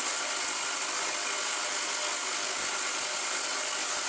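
A 6.5-litre ultrasonic cleaner running with an aluminium foil test inside, giving a steady, loud hiss-like buzz that holds unchanged throughout with no talk.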